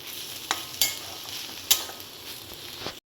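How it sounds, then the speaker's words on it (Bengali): A spoon stirs a coarse coconut and peanut paste into a banana flower curry in a pan, giving a soft, steady sizzle broken by a few sharp scraping knocks against the pan. "নাড়াচাড়া করব"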